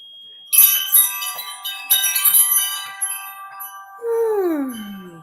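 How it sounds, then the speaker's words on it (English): Bright metallic chimes tinkle and ring in clustered strikes, their tones lingering, before a lower sliding hum at the end. "I have wind chimes all over my house."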